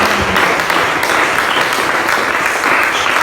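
A church congregation claps and cheers together, loud and steady throughout, a dense wash of applause with no pauses.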